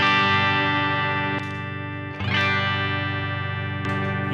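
Moonshine overdrive guitar pedal set to low gain, sustained electric guitar chords with a mild, warm grit, three strums each left ringing for over a second.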